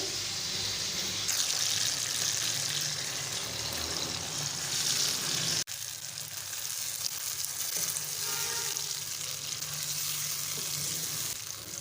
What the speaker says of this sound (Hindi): कतलियाँ टमाटरों के अंदर अच्छे से फ्राई हो गई हैं